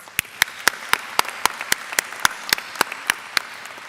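Sparse, evenly spaced hand claps ring out one after another at a graduation ceremony for the class of 2024, crisp and fairly close over a low room murmur.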